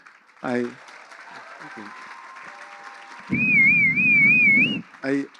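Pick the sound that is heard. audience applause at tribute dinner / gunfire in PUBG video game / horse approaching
audience applause at tribute dinner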